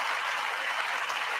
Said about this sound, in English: Why is Kamala Harris standing up and clapping?